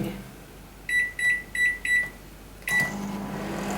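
A microwave oven being set to cook litti gives four quick electronic beeps, a pause, then one more beep. A low steady running hum follows.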